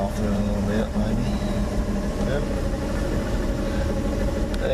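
An '83 Dodge truck engine idles steadily, a constant low rumble that holds even and unbroken throughout, with faint background noise over it.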